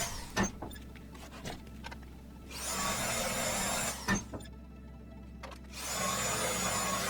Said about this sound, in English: just drill the whole thing